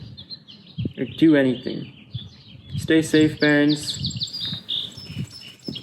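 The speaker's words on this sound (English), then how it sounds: "You can hear the birds outside." Birds chirp and tweet in short bright bursts in the background while a person speaks over them.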